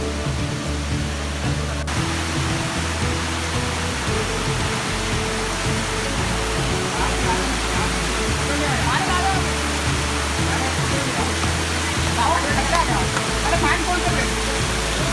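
Steady roar of a waterfall in the Ananthagiri Hills near Vikarabad, a broad rushing wash of falling water that fills the whole clip at constant loudness, close and continuous.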